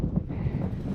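Wind blows across a mountain ridge on the route up Triglav, a brief gusty rumble buffeting the microphone, with no talking.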